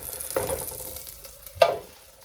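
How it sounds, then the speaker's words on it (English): Chorizo fries quietly in a Japanese mess tin while breakfast is cooked outdoors. A soft, steady sizzle runs throughout, broken by two sharp metallic clinks as the pan is stirred. "That is the oils starting to seep out of that chorizo."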